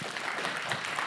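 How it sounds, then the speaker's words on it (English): A conference crowd gives a round of applause, a steady wash of clapping hands filling the short moment, with a faint voice beneath it. "Please give him a round of applause."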